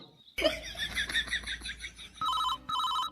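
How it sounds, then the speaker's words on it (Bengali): A cartoon telephone rings in bright, trilling electronic bursts, a longer warbling ring followed by two shorter repeated tones, close and clear with no talk over it. "কি হলো এখন আবার কে ফোন করলো"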